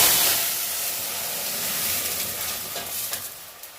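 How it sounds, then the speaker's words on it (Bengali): Water from a ground black and white mustard and chilli paste is poured into hot oil tempered with cumin for a hilsa curry, bursting into a loud hissing sizzle that gradually eases off. "কালো সর্ষে সাদা সর্ষে লঙ্কা দিয়ে যেটা বেটেছিলাম সেই জলটা আমি তেলের উপর দিয়ে দিচ্ছি"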